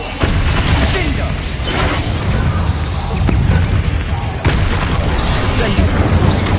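Repeated Incendio fire spells cast in Hogwarts Legacy, a steady stream of loud booming, crackling blasts running the whole time with sharper bursts layered into a dense combat din.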